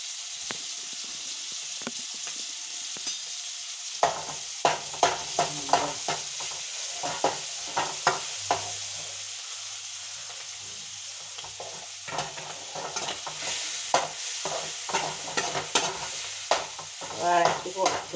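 Mussels (kallummakkaya) stir-fry in a pan on medium flame, with a constant sizzle under repeated scraping stir strokes that come in close, uneven bursts.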